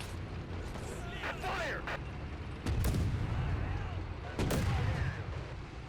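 Cannon fire in the war strategy game Men of War: Assault Squad 2, with two heavy booming shots a couple of seconds apart over rumbling battle noise while someone talks.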